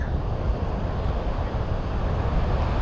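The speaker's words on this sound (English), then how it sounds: "the wind's blowing right to the left and I'm absolutely getting sand blasted" Strong wind blows across a shingle fishing beach at night, a loud continuous roar buffeting the microphone with surf blended underneath, no voices.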